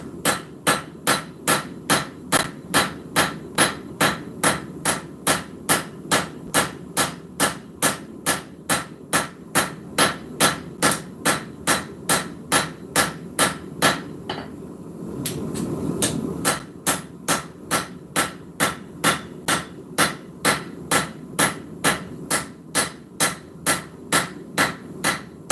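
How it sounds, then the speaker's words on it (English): Steady, evenly spaced hammer blows ring on hot metal as the edge of an EDC blade is rounded during forging, loud and close, with a brief pause midway before the rhythmic striking resumes. "We're going to use the rounding side of the hammer and go all the way around the edge."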